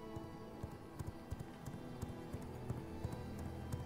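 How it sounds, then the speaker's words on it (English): A horse gallops in the video game V Rising, its hooves clip-clopping in a quick, steady rhythm. The footfalls are fairly faint and sit over a low game background, and nobody speaks. "Gallop."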